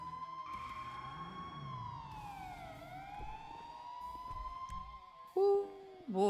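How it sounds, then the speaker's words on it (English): Police car siren in a roleplay video game, a wailing tone that rises and falls slowly, then a brief loud burst of a different siren sound near the end, with background vehicle noise. "I have the ghost siren going."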